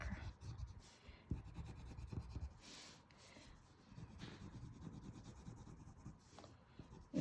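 Pencil shading eyebrows on paper in a portrait drawing of William Shakespeare, soft close scratchy strokes in repeated quiet bursts.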